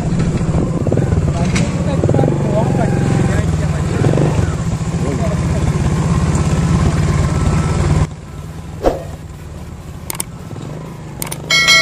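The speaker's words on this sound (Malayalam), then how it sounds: "ഇവിടെ ബൈക്കിൽ പോയിക്കോ നമുക്ക്" A motorcycle engine runs steadily nearby on a rural road by a bridge construction site in Cherushola, a constant low drone that drops away toward the end, with people talking over it.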